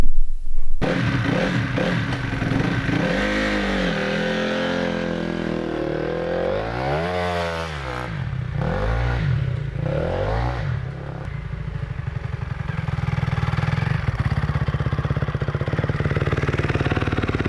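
A Honda CRF250 dirt bike fitted with a lowering link runs steadily and up close, its engine droning and rising and falling in pitch through several revs before settling into a sustained higher tone, with no voices.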